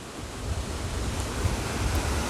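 Light wind outdoors beside a river during fly fishing, a steady, soft rushing noise with low rumbling buffets, no voices.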